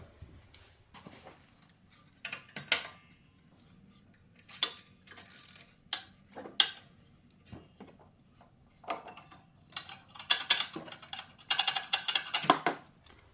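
A socket wrench works on the tensioner pulley of an Exmark Radius mower, giving intermittent metallic clicks, ratcheting bursts and clanks, with quiet gaps between the close, irregular taps.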